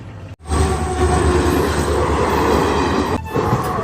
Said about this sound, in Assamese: সকলোৱে চাই আছে ট্ৰেইন।